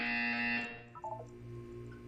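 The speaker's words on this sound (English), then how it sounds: "You will hear a buzzer." Buzzer in the video game Portal 2, a short, moderately loud electronic tone that cuts off abruptly and is followed by a faint trailing chime.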